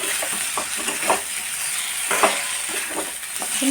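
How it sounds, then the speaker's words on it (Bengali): Potato and eggplant pieces fry in hot oil, a soft steady sizzle broken by irregular stirring scrapes and spoon knocks, close by and fairly quiet, with no voices. "এবার এর মধ্যে আমি আলুটা বেগুনটা দিয়ে দেবো। আলু বেগুন দিয়ে আমি একটু কষিয়ে নেব।"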